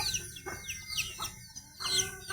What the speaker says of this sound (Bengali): এই যে একটা সাদা মুরগি দেখতে পাচ্ছ